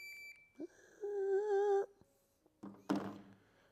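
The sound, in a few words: dry fire shot timer app beep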